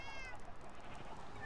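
Cats meowing in the Minecraft video game, a faint, brief in-game meow over soft background hiss, heard alone without talk.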